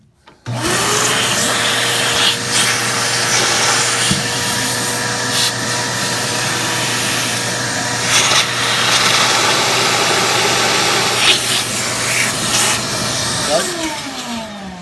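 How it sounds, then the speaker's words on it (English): A vacuum switches on with a loud, steady whining roar as it sucks out a Munchkin boiler's drain trap, running continuously, then winds down near the end. "So if you'll turn that vacuum on for me, I'm going to suck it right out of there."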